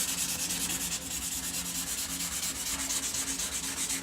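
Fine sandpaper rubbed over a battle-damaged Captain America shield prop, a steady close scratchy rasp that keeps going for the whole stretch with a small dip partway, no talking.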